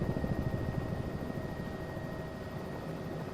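A helicopter in Microsoft Flight Simulator 2024, flying a scenic Puerto Rico route: a steady rotor drone with a whining hum and an even, fast chop, continuous and moderately loud.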